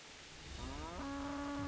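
A cow in the game Kingdom Come lets out a single drawn-out moo, starting low and rising into a steady sustained tone, fairly close and clear with no talk.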